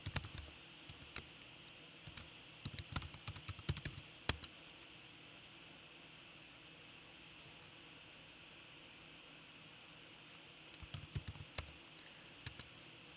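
Quiet typing on a computer keyboard, with scattered clusters of light key clicks over a faint steady hiss and a pause in the middle before a few more taps.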